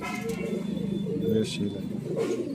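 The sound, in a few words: pigeons cooing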